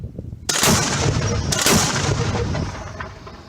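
A loud mortar shot booms sharply on the eastern front in Ukraine, followed moments later by a second heavy blast, each trailing off into a rumbling echo outdoors.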